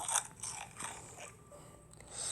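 Crunchy deep-fried food being eaten in the Toca Kitchen 2 game, a few quick crisp bites and crunching chews close up, short and moderately loud with no talk.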